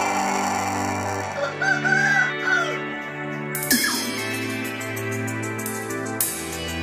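A Pelung chicken, a long-crowing breed of rooster, crows at close range in a long drawn-out call, with other fowl sounds and background noise around it.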